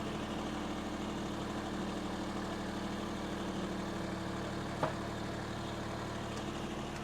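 A tractor engine idles steadily nearby in a wooded yard with deep wood chips, a low continuous rumble with a faint click partway through and no voices.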